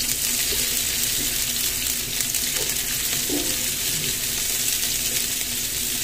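Chopped onion hits hot oil in a frying pan for chicken afritada, giving a steady, close hiss of sizzling that holds evenly throughout with a few faint stirring clinks and no voices.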